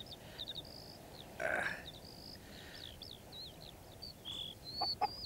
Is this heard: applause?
no